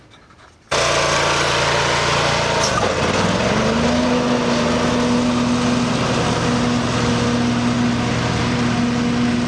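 A riding lawn mower fitted with mulching blades starts up and runs steadily and loudly, with a sustained engine drone holding a steady pitch after a brief rise as it settles.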